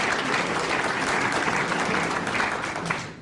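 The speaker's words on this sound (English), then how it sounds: "So can we give him a round of applause?" An audience at a climate debate lecture breaks into applause, a dense, steady wash of clapping from a full room that fades slightly at the end.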